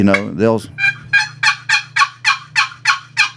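A turkey call is worked to imitate a soft hen turkey yelp. It gives a rapid, evenly spaced run of about nine short raspy notes after a couple of lower openers, and it sounds close and alone.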